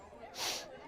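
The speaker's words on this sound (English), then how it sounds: "Keep sniffling." A single short, breathy sniff through the nose at a high school baseball game, close by and fairly quiet, lasting a fraction of a second.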